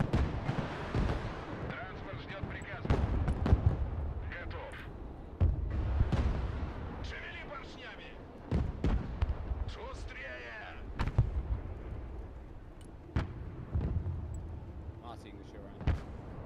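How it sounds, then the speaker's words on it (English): Artillery strikes in the modern-warfare strategy game Broken Arrow land as scattered heavy booms and sharp impacts over a low rumbling battlefield, with a person talking in between the blasts. "Fine, I'll put artillery on two of them."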